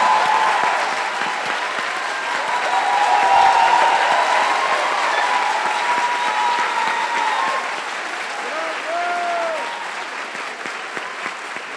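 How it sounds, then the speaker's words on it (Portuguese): Sustained applause from a large crowd at a literary festival talk, steady and loud, with scattered voices rising faintly beneath the clapping before it tapers slightly. "É claro que, antes, pedindo uma nova salva de palmas para a Conceição Evaristo"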